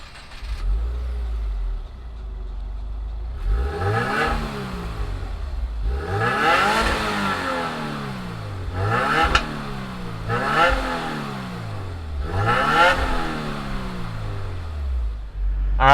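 A 2020 Subaru WRX in World Rally Blue, premium trim, with its FA flat-four engine starts and idles, then rises through five or six sharp revs that fall back to idle between them, loud and close.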